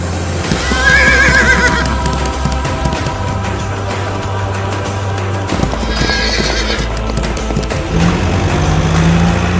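Horses at Mount Bromo neigh and whinny while hooves clip-clop steadily along the trail to the volcano's crater, with two clear whinnies rising over the continuous trotting and a low rumble underneath.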